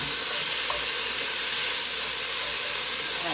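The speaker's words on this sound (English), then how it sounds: "let that saute a couple of minutes" Onions and peppers sautéing in garlic oil for a chili give a steady, even hiss throughout, close and constant with no talking.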